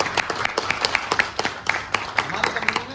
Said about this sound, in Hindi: एक बार उसके लिए भी जबरदस्त तालियां।